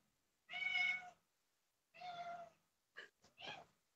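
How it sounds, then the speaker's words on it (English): A house cat meows near the microphone, two drawn-out meows followed by a couple of shorter chirpy calls, fairly quiet with pauses between them and no talk. "My cat is probably going to bother us the whole time that this is going on."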